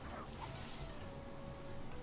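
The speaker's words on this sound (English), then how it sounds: "Did this raccoon just bark?" A raccoon character in a digital card game gives a short barking sound effect, doglike yips set within a dense, busy layer of game audio.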